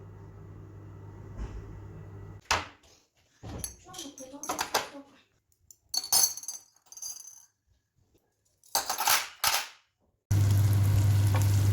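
Sizzling and crackling of eggs with pastırma in a hot pan come in bursts with clattering utensil knocks, then a steady loud frying hiss at the end.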